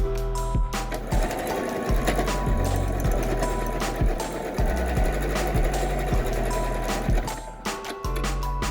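A sewing machine stitches a pleated rectangular fabric mask shut, running in fast, even mechanical chatter with a low motor hum, pausing briefly and restarting several times, close and without talk.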